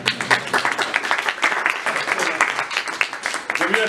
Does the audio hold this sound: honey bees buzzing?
no